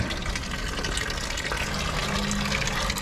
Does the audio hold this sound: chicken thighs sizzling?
no